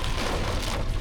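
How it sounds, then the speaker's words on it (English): Very heavy rain pours down in a steady, dense broadband wash, loud and close throughout with no voices. "So right now it's very heavy rain"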